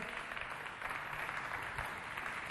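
Audience applauding both teams at a neighbourhood youth competition event in N'djari, a steady wash of clapping at moderate distance lasting the whole stretch.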